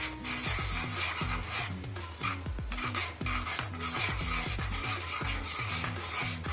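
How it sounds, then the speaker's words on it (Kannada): A spoon stirs fried apple pieces into milk in a pot for apple kheer, a steady rhythmic scraping and clinking repeated about twice a second, close and alone with no talk. "ಹಾಲಿನಲ್ಲಿ ಚೆನ್ನಾಗಿ ಮಿಕ್ಸ್ ಮಾಡಬೇಕು"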